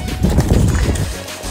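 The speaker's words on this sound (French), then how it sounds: "On va se mettre à cheval." A horse being ridden in an outdoor riding arena, hooves clip-clopping in a quick, close, loud rhythm over a brief stretch, with no talking.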